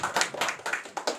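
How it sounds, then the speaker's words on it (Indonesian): Audience applause at a debate on Indonesian copyright law: a short run of quick, fairly close hand claps in irregular bursts, with no talking over it. "tepuk tangan dulu loh"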